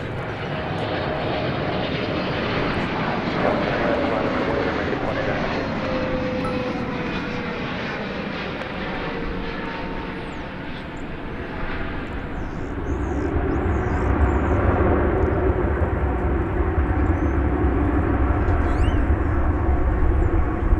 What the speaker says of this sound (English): Triple 7-300ER is that aircraft,